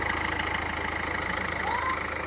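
A 2012 Nissan Sunny XV with push-button start idles steadily, its engine giving a low, even, smooth hum with a faint regular pulse.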